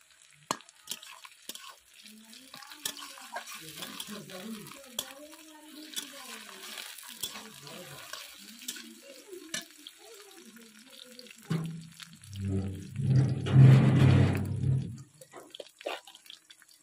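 Onions stirred and frying in a pan, with chopped tomato then dropped in: soft scraping and sizzle under light clinks, rising to a louder wet hiss and splash near the end as the tomato hits the hot oil.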